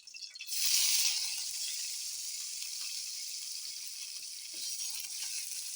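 Onions dropped into hot oil in a pan for noodles, a loud hiss that flares at first and then settles into a steady sizzle.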